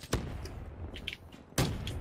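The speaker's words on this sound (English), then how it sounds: "I hear explosions." Explosions in Call of Duty: Black Ops come as two sharp, booming blasts, one near the start and another later, with quieter battle noise between them and no talking.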